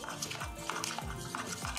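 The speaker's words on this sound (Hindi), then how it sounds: "इसमें हल्का गुनगुना दूध डाल दिया है और इसे अच्छे से मिक्स करना है हमें ताकि लम्स बिल्कुल ना पड़े" A spoon stirring custard powder into lukewarm milk in a pot, a steady scraping, swishing sound with soft clinks against the metal, close and continuous.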